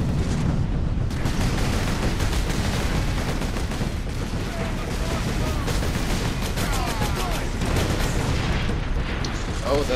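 Grenades going off in Warhammer 40k Space Marine amid constant heavy battle noise: continuous gunfire, booms and clatter at steady high volume, with faint shouting mixed in.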